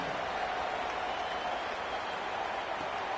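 A stadium crowd in a college football video game roars and applauds in a steady, unbroken wash of noise.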